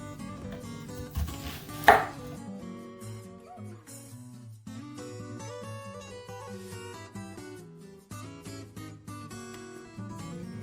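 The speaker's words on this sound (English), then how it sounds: "So first you just have to chop one small onion." Rapid knife chopping of an onion on a cutting board, with one sharper knock near the start, over a steady background of music.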